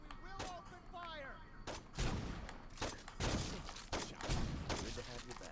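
Gunfire in a Saints Row 2 street fight, loud repeated shots and bursts crackling through the second half, with voices heard at the start.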